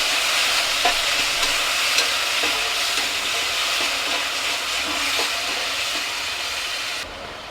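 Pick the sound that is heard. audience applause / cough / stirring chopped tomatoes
stirring chopped tomatoes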